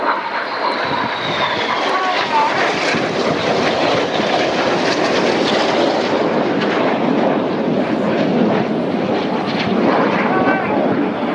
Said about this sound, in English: 4 jets now descending to just 100 feet above the runway